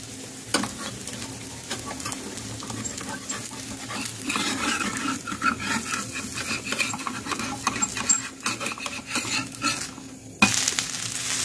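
A rice flour paratha sizzles on a hot pan while it is flipped, with a steady frying crackle and scattered scraping and clinking from the utensil and pan.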